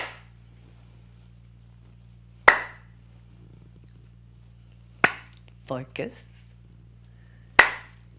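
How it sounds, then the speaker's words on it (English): Hand claps during a dementia exercise class, single sharp claps spaced a few seconds apart in a quiet room, with a brief spoken word between them. "Add in a clap if you can."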